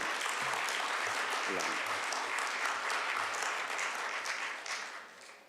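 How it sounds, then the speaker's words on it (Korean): A church congregation's steady applause at a Sunday service fills the space, dense and continuous, then begins to fade toward the end. "박수로 한번 환영해 주실까요?"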